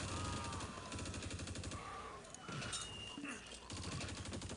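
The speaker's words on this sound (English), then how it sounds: "Machine gun." Machine gun fire in the Close Combat video game rattles in steady, rapid bursts with brief pauses, loud and continuous over background battle noise.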